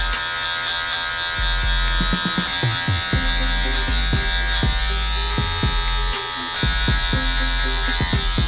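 Electric hair clippers buzz continuously and loudly up close while trimming hair, with scattered clicks and taps from handling over the steady hum.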